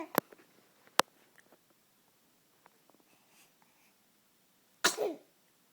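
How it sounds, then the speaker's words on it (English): A single loud, sharp sneeze rings out near the end, preceded by a few scattered small clicks, and quiet sounds in an otherwise hushed room. "You got the sneezes."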